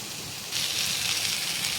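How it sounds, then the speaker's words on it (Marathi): Boiled rice is tipped into a pan of fried spices and sets off a sudden, loud, steady sizzle that continues without any talking. "हे सर्व मसाले व्यवस्थित फ्राय झाल्यानंतर आता यामध्ये मी ॲड करणार आहे बॉईल केलेला राईस"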